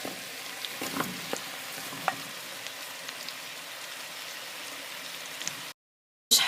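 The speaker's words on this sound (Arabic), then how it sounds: "نشحرهم مع البصله واحد المده ديال 2 دقائق" Chopped onion, zucchini and broccoli sauté in a pan for a spinach soup, crackling and sizzling in a soft, continuous hiss with a few sharper pops and stirring clicks, ending in a short silence.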